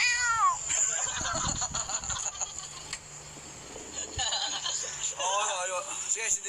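A voice mimics a drowning cat with warbling, gurgling meows in several bursts, among casual talk and laughter from others nearby.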